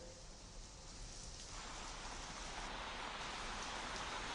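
Heavy rain pours down in Delhi-NCR, a dense, steady hiss of falling water that grows slightly louder and fuller partway through, heard alone with no voices.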